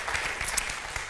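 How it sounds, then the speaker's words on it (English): A church congregation claps together, a brief burst of dense, moderately loud applause with scattered sharper hand claps and no talking. "Keep clapping"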